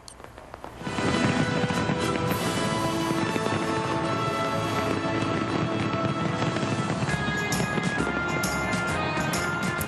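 New Year fireworks over Auckland's Sky Tower, ringing in 2015, make a loud, dense, continuous barrage of crackling bursts that starts abruptly and keeps going without a pause.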